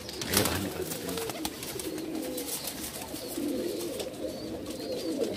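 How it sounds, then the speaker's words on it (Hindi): A young male pigeon coos repeatedly at a pigeon market in Bhopal, soft, low, close calls over a busy background of market noise and faint rustling. "ये पूरा जवान होता हुआ कबूतर है"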